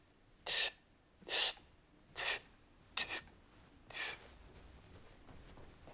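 Five deep, breathy inhalations by a saxophonist in a breathing demonstration: separate airy draws come at roughly one-second intervals, the fourth broken into two quick sniffs. They are close and fairly loud, with no talk, and a faint hiss remains after the last breath.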